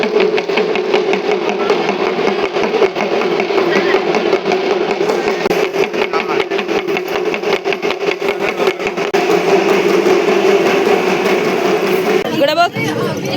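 A Kolkata metro train running, a steady loud mechanical hum and drone with rhythmic rattling, continuing throughout with voices talking over it.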